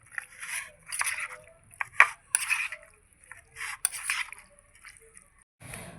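Minced meat filling for momos being mixed by hand: wet squelching, sticky squishes and soft slaps in irregular bursts, close and fairly distinct, with quiet gaps between handfuls.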